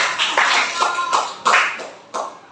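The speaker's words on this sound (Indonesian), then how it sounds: "beri tepuk tangan untuk Habibie." A classroom of students applauds a classmate with about half a dozen soft, smeared clapping bursts in a loose, uneven rhythm, with no talking over them.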